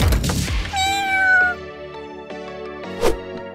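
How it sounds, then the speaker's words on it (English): A cat gives a clear, drawn-out meow close by, a single rising and falling call, followed by a few soft knocks and thuds in an indoor room. "Is it the cat?"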